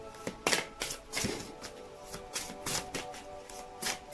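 Angel Answer Oracle cards shuffled by hand in a series of crisp, papery riffling bursts with short pauses between, close and fairly quiet, no talking.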